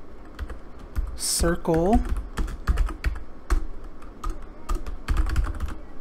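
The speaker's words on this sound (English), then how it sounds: "we're gonna just type in here" Rapid clicking keystrokes on a computer keyboard while working in GameMaker, arriving in irregular bursts close to the mic, with a brief spoken word partway through.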